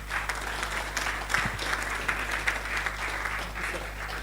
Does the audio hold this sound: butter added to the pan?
no